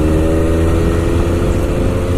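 MV Agusta F3 motorcycle fitted with a legal aftermarket exhaust runs close by, a loud, steady, raw engine drone with no pauses.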